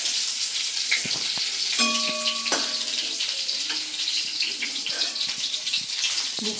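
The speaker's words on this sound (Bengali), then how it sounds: "এখন চিকেন পকোড়া ভাজা হচ্ছে।" Chicken pakoras fry in hot oil with a steady, close bubbling sizzle throughout, broken by a few soft clinks and scrapes of a utensil, with no talking.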